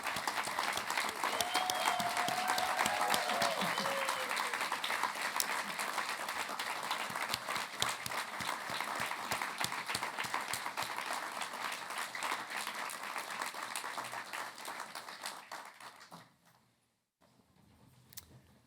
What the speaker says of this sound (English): Can everyone please stand up and give Dean David a round of applause?